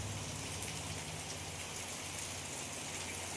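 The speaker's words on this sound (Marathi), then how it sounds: "आता तर भरपूरच पडता पाऊस" Heavy monsoon rain pours in coastal Konkan, a dense, even hiss of drops on surfaces that stays steady and fairly close with no voices.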